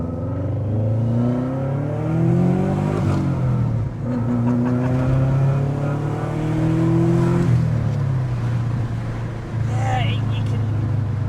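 A Subaru-swapped 4x4 VW Golf GTI engine revs loudly and close, its pitch climbing and falling in repeated sweeps over a steady throaty drone.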